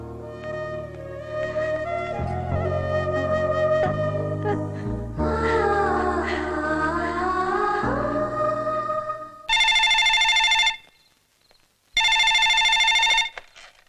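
An indoor telephone in a Telugu film scene rings unanswered, two loud electronic ring bursts with a short silent gap, following a stretch of swelling dramatic film score.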